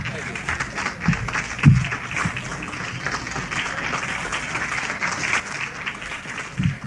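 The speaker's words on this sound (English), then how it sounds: "Thank you if you applauded." A 1958 audience welcomes comedian Redd Foxx onto the stage with a dense, steady wash of applause that keeps up throughout, and voices can be heard mixed into the clapping.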